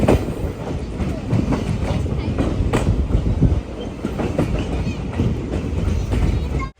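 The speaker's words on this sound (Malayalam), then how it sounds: "ട്രെയിൻ ഇപ്പോൾ മക്കും ജംഗ്ഷൻ സ്റ്റേഷനിലേക്ക് ഇതാ എത്തിക്കൊണ്ടിരിക്കുകയാണ്" A train arrives at Makum Junction station in Assam on the Tinsukia to Ledo line, rolling close by with a loud, steady rumble and rhythmic clickety-clack of wheels over rail joints.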